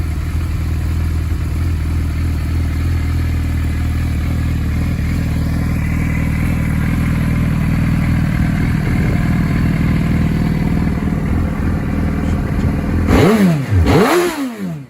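A Suzuki GSX 1300 B-King motorcycle idles with a loud, steady rumble, then near the end the engine is blipped in two sharp revs that rise and fall.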